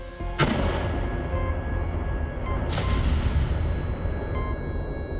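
A blast test near a dummy soldier produces two sharp, powerful booms a couple of seconds apart over steady low rumble, loud and close, with no talk over them.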